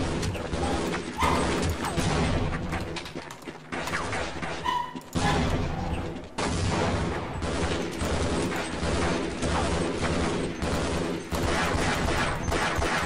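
Gunfire in Half-Life: Blue Shift rings out in a dense game soundscape, with several loud, sharp shots and crashing impacts breaking through continuous mechanical background noise.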